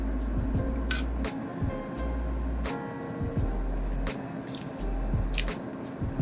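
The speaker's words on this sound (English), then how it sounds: "I'm removing my fettuccine out of the pasta water." Fettuccine lifted out of salted pasta water, with steady wet drips and squishy splashes falling back into the pot, close and continuous.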